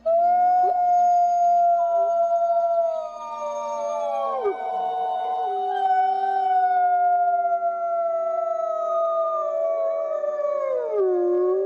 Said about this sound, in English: that's 63 wolves that are howling in unison in chorus.